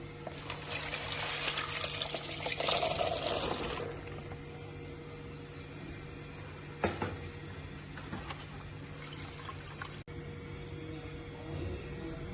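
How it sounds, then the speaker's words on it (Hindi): Water drained from a pot of boiled chickpeas for hummus, a broad splashing pour for about four seconds that then drops to a faint trickle and occasional clinks in a kitchen sink. "अब इसका ड्रेन करते हैं पानी।"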